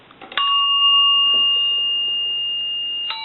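A Western Electric telephone bell ringer, set to chime, strikes one clear ringing tone that holds and slowly decays, followed by a second strike at the end; loud and close.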